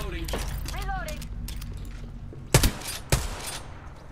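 A weapon being reloaded in the video game Apex Legends: two sharp mechanical clacks about half a second apart, heard over steady game ambience with a brief voice-like sound earlier on.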